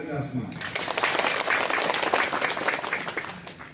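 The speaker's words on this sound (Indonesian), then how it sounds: "Tepuk tangan kita semua." An audience at a religious affairs ministry anniversary ceremony applauding, a dense, even burst of many hands clapping that swells after a short spoken moment and holds for a few seconds.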